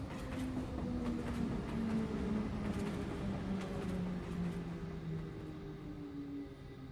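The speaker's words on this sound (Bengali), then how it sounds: "হঠাৎ ট্রেনটা থামল।" Steady rumble of a train running on rails with faint clattering and a drifting low tone, continuous and fairly close, a sound effect under a horror story scene where the train stops suddenly.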